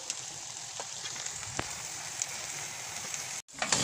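Carrots frying in a pan for fried rice, giving a steady, even sizzle like light rain with a few soft ticks, close and continuous, cut by a brief gap near the end.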